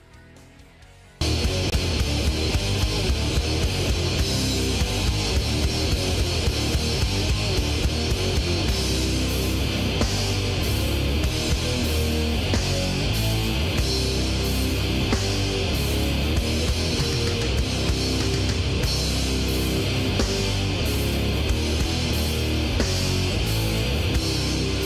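Dense, loud death metal song with distorted guitars and pounding drums running continuously after a short quiet lead-in.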